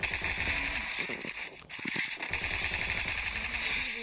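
Sustained machine gun fire pours out in a video game firefight, rapid and continuous, loud and close. A brief dip near the middle breaks the stream before the firing resumes.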